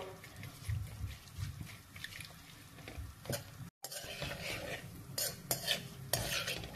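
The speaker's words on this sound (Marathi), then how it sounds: "आता घालूया खोबरं. खोबरं पण अगदी पटकन तळून होतं." Coconut frying in oil for a spicy thin poha chivda, a quiet bubbling sizzle with repeated stirring and scraping of a spoon against the pan, with a brief break partway.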